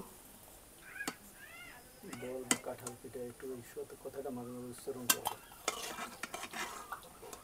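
Fried jackfruit pitha lifted out of hot oil, with sharp metal clinks and scrapes over a soft sizzle, while a cat meows repeatedly nearby.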